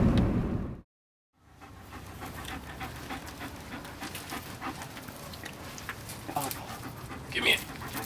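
Cola, a large dog, pants rapidly and steadily at close range after a short silent gap, with soft rustling and a brief higher whimper or yip near the end.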